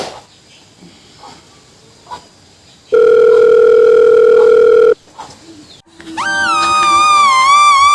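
A telephone dial tone sounds loud and steady for about two seconds, then after a short pause a second electronic phone tone rises in and holds, amid a quiet room with faint background noise.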